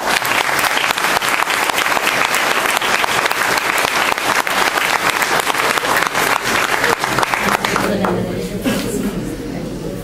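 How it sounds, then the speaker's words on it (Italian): A chamber full of people applauds at the swearing-in session of the Guardavalle town council in Italy. Loud, crowded clapping carries on for several seconds and then dies down, leaving some murmuring and faint voices at the end. "Un applauso."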